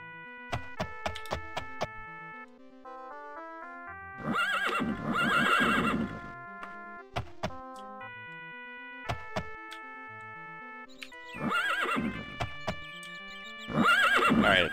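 Horse in The Elder Scrolls II: Daggerfall whinnying loudly in repeated bursts between trotting hoofbeats, mixed with a bright plucked game music melody, all fairly close and clear with no talk.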